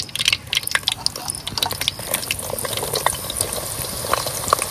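Sliced eggplant crackles and spits as it fries in very hot ghee, a dense, steady sizzle with scattered sharp pops close by, no voices.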